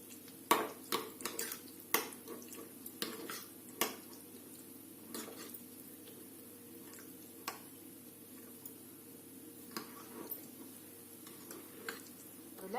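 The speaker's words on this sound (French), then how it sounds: "Et on mélange." A spoon stirs taco sauce in a bowl, giving a run of sharp, quiet clinks and taps against the sides, irregular at first and then spacing out.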